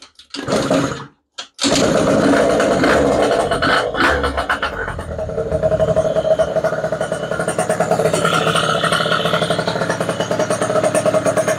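A motorcycle engine cranks, catches and fires up, then settles into a steady, loud idle with a rhythmic chugging putter.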